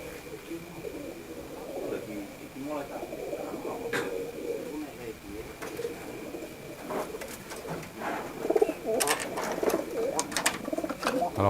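Pigeons coo in low, soft, repeated bursts at a pigeon breeder's loft, with people talking alongside.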